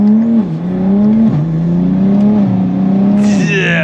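An 830 wheel-horsepower BMW M240i accelerates hard up close, its loud engine note climbing and dipping through gear changes, with a sharp, raspy burst near the end.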